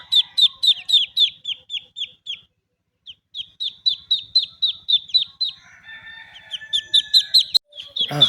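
Three young Chinese duck chicks, just bought at a village market, peep in rapid, loud, close-up bursts of high calls, with a short pause before the chorus resumes.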